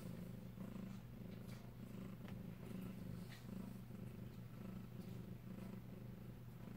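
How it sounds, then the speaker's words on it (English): A cat purrs close up in a steady, low rumbling rhythm, soft and continuous with no talking. "A lot of purring, huh?"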